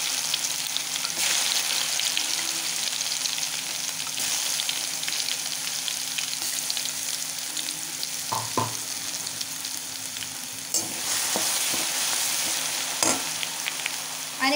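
A ground paste of green chili, garlic and cumin, with a pinch of asafoetida, sizzles loudly in hot oil as a steady, dense hiss, broken now and then by faint stirring clicks.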